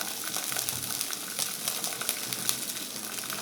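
Ginger and garlic paste fries with onions in hot oil, giving a steady, close hiss with a crackling, sputtering texture that holds at an even level throughout.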